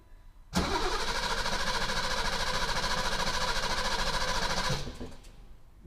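A BMW E32 engine cranks continuously for several seconds with a steady churning whir, never catching, then cuts off into quiet.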